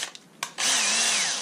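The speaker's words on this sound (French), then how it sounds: "Là, on peut y aller à la visseuse tranquillement." A cordless screwdriver drives a screw into a wooden jig, with a few light knocks first and then a loud whirring burst that rises in pitch as the screw bites.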